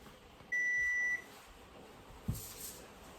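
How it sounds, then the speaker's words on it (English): A single sustained electronic beep from a kitchen oven timer, clear against a quiet room, followed by a faint clatter. "The timer has gone off, 450 degrees, 15 minutes."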